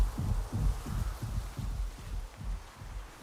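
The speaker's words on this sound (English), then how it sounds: "You can hear the heartbeat." A player character's heartbeat in Atomfall thumps low and steady, about three beats a second, close and dull, under a faint background hum.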